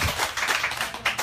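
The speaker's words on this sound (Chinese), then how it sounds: "请大家拍拍手欢迎他" An audience at a Taiwanese literature talk on Thai women's writing claps to welcome a speaker, a steady patter of many hands at moderate level across the short stretch, with no voices over it.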